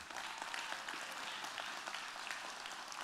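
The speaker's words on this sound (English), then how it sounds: "Give him a good cheer" An audience at a church service applauds and cheers for a man who is leaving the military, producing steady, dense clapping with a few voices that fills the room and carries on evenly from start to finish.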